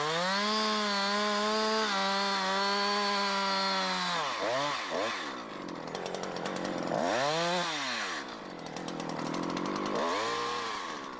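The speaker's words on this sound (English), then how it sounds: "you have to complete the directional notch from the other side." A Husqvarna chainsaw cuts a directional notch in a tree trunk, first droning at steady revs, then rising and falling through repeated throttle swells as the chain bites into the wood, loud and close with no speech.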